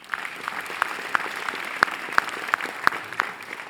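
Light applause from an audience at a theatre season presentation, with individual claps popping out irregularly over a soft background, fairly quiet and thin.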